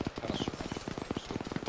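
Heavy gunfire from the south, a rapid run of evenly spaced shots forming sustained automatic bursts, loud and close, with no voices.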